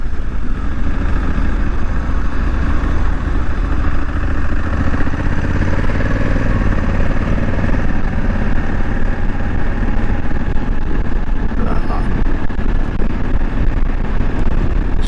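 A Honda Africa Twin DCT motorcycle heard while riding, with a steady, loud engine drone and wind rush throughout and no speech.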